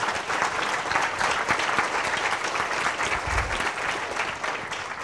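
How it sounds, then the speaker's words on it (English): Sustained applause from a conference audience at Codeland 2018 after a speaker's talk, dense and steady clapping filling the room at even strength for several seconds, with no talk over it. "Let's give Caleb a really big round of applause."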